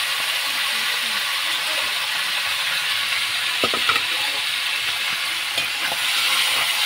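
Meat being sautéed in a pan for adobo gives a steady close sizzle throughout, with a few brief stirring scrapes and clicks partway through.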